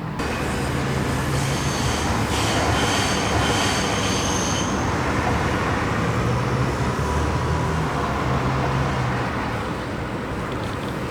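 A Dutch intercity train arriving at Amsterdam Central rumbles steadily close by for the whole stretch, with a faint high squeal from the wheels early on and low engine tones underneath.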